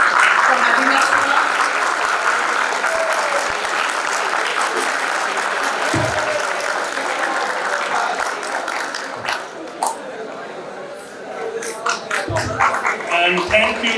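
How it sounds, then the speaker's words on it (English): An audience at a talk on Sikh history gives a sustained round of applause that stays dense for several seconds and then thins and tapers off, with a few voices mixed in. "Big hand of applause, please."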